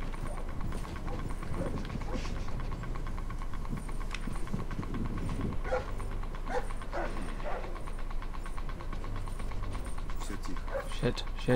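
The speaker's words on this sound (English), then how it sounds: "The dog's on you." A guard dog barks in the stealth video game Splinter Cell Blacklist during a co-op mission, with repeated sharp barks over clattering footsteps and game mechanisms, amid busy in-game background noise.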